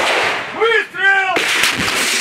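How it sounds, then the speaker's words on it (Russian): Gunfire during combat in the Ukraine war, near Chernuhino by a forest: a loud broadband blast at the start, then a sharp crack about halfway through, with no talk. "Выстрел!"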